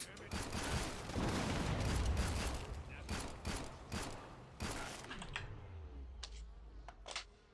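Rapid gunfire from the video game Killing Floor 2, a loud sustained burst of rounds for about five seconds that then thins into scattered individual shots over a fading tail.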